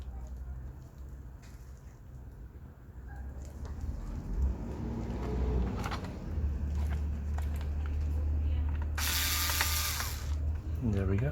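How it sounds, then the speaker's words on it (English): A screwdriver loosens the bottom panel screws of a Lenovo ThinkPad E480 laptop, producing close, quiet ratcheting clicks in irregular bursts against a soft background. "just double check all the screws are loose"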